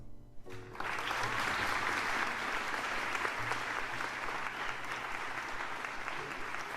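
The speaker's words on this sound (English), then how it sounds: "Let's give George a round of applause." Applause cuts in after a brief pause and carries on as a steady, fairly soft wash of clapping for a game dev student during a livestream, with a low hum underneath.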